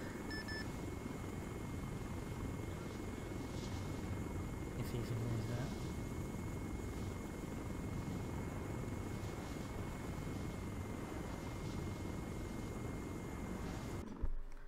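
A helicopter in the Arma 3 video game, a continuous low rotor and engine drone holding steady throughout, with someone speaking briefly over it.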